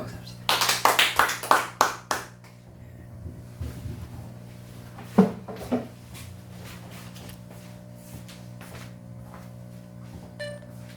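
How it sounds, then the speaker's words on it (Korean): Church congregation at a Baptist Sunday service clapping in thanks, a short burst of about a dozen crisp, closely spaced claps up front, then scattered taps under a low steady hum. "감사의 박수합시다."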